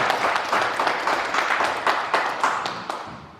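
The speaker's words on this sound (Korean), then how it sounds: "뜨거운 박수로 환영 부탁드리겠습니다" Warm applause from an audience at a public history lecture in Goseong, welcoming an official to the podium, with distinct individual claps standing out in an uneven, moderately loud patter that gradually thins.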